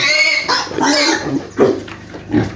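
Farm pigs compete for food, giving close, loud squeals and grunts in several bursts with no talking.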